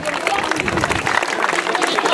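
Audience applauding at a firefighting competition awards ceremony in Bardejov, a steady dense wash of clapping from a crowd filling the whole moment, with a voice talking over it.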